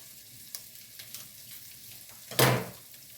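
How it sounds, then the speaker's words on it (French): Green beans sautéing with shallot and garlic, a soft low sizzle with light taps, then a sudden louder burst of hiss around the middle-end that fades quickly. "je fais revenir mes haricots verts avec l'échalote, l'ail"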